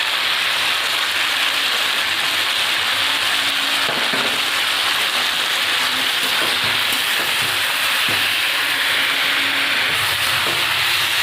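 Cumin and chili paste sizzle steadily in a hot pan as a Bengali fish and bottle gourd dish is cooked, a loud continuous frying hiss with occasional faint scrapes.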